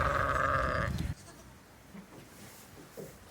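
A sheep bleats loudly and steadily for about a second in a lambing shed, followed by quiet barn ambience with faint shuffling.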